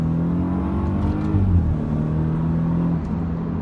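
A modified 2016 BMW F32 428i, flashed with a Bootmod3 off-the-shelf tune, makes a full-throttle pull, its engine drone climbing steadily in pitch from inside the cabin, loud and continuous with a brief shift-like dip.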